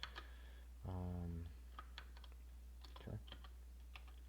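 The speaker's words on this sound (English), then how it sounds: "So I'm going to type get NFS share." Keystrokes on a computer keyboard while entering a command in Windows Server, scattered soft clicks with a brief hum near the start and one spoken word in the background.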